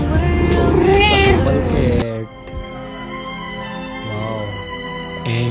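A cat gives loud, drawn-out angry meows, one long harsh yowl followed by quieter complaining cries, close to the microphone with household sounds around it.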